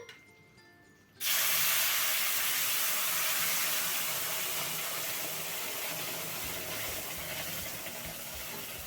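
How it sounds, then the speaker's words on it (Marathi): After a quiet moment, a sudden loud rushing hiss erupts as boiling water is poured into roasted semolina in a hot pan, then continues as a steady, slowly fading steamy bubbling. "यामध्ये आता आपण उकळीचं पाणी घालूयात अगदी सावकाश घालायचं बरं का"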